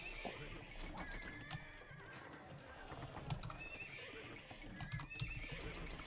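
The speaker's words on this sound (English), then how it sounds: "Look, a horse. That is a horse," A horse in a video game gives a loud whinny, with clip-clopping hooves and busy game ambience around it.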